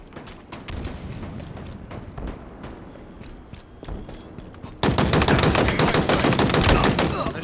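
Machine gun fire in the Halo Infinite video game, rapid gunshot bursts that turn into a loud sustained stream of shots partway through, close and dense with no voices.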